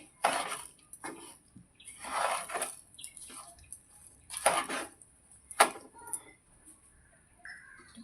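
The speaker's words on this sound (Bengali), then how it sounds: "চিনিটা আমি দিয়ে দিয়েছি এবার একটুটা নেড়ে নেবো এইভাবে" A spoon scrapes and clinks around a pan as sugar is stirred into chana dal and semolina halwa, in short separate bursts of metal scraping with quiet pauses between.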